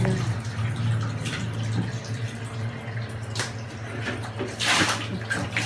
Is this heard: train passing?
no